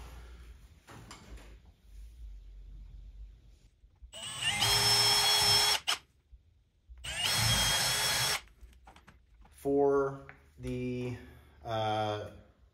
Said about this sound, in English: I have a 1/8 inch drill bit here.